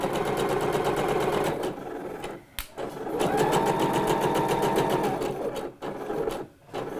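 Sewing machine stitching the neckline of a kimono-style blouse, a fast steady mechanical rattling hum in bursts, briefly pausing and restarting several times, close and fairly loud.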